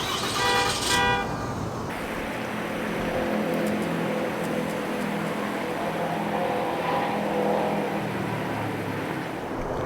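A 2023 RAM 2500 pickup's air suspension raises the rear of the truck, a steady mechanical hum and compressor-like whir running continuously outdoors, with a brief higher tone at the start before settling into a level drone.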